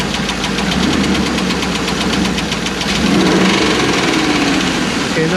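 An Isuzu engine with a bad lifter runs with a steady, rapid ticking knock over a loud idle drone, close and continuous throughout, and the engine note shifts slightly partway through.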